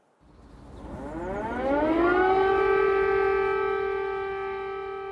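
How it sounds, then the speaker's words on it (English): A civil defense air raid siren in Kyiv, Ukraine, during the 2022 invasion, rises to a loud, steady wail and holds it, close and alone. "Air raid sirens in Kyiv, signaling that the full-scale invasion of a European country in the year 2022 was well underway."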